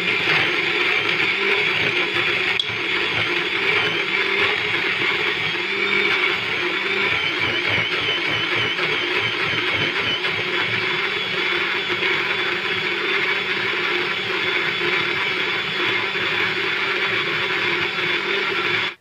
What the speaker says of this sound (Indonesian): Dan kita blender hingga bumbunya halus semua.